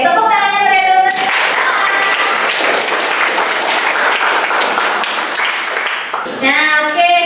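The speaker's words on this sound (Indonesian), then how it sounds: "tepuk tangannya beri dulu" Sustained applause from a classroom of students clapping their hands together, loud and steady for several seconds, with teacher talk just before and after it.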